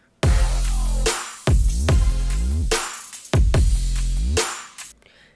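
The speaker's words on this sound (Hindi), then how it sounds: "तो बेसिकली ये हैंड क्लैप का एक लूप है एंड आप सुन सकते हो यहां पे भी मैंने इसको चॉप करा है।" Chopped hand clap loop in FL Studio, sounding as four sharp, loud claps, each followed by a ringing tail that is cut off abruptly, in an uneven rhythm with nothing else heard.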